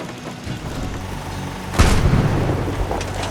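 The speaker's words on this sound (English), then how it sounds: "Yes, the junk mortar." A junk mortar firing in Fallout 4: a low rumbling ambience broken by one sharp, loud boom near the middle that trails off into a rolling, thunder-like tail.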